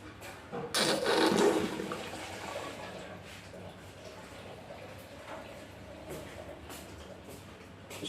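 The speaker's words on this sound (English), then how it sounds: "Oh, it's gone through. It's gone through. Looks like it must have opened up." Boiling water gushes down a previously clogged washbasin drain, a loud burst of rushing, gurgling flow that eases into a quieter, lingering trickle and drip.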